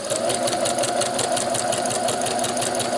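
A sewing machine set up for free-motion embroidery runs continuously at a fast, even needle rhythm, close and fairly loud, with a steady mechanical whirr and no talking.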